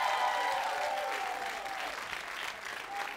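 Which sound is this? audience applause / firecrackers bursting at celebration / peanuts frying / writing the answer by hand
audience applause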